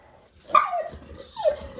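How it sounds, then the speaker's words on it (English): A dog barks for attention indoors with a single close, clear bark followed by a short whine, with nothing else around it. "That's my dog Albert telling me that we're not paying attention to him"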